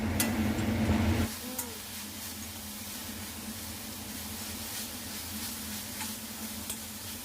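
Broccoli with pepper powder frying in a pan gives a steady close sizzle, louder for the first second or so and then settling into an even hiss with a few faint clicks. No one speaks.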